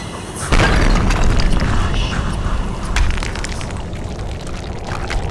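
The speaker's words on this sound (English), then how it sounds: "And the great ball of fire that comes." A fireball booming in the game Kholat, a loud sudden rumbling blast that swells, then settles into a sustained roaring, crackling rush that slowly fades.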